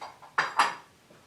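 Hot metal pizza pans clank and scrape as they slide back onto an oven rack while homemade gluten-free crazy crust pizzas cook, two sharp close knocks with faint rattling between and no talk.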